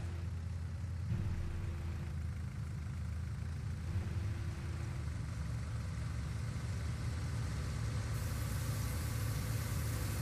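A farm vehicle engine idles in the game Farming Simulator 19, a steady low rumbling drone that runs evenly throughout with no talk over it.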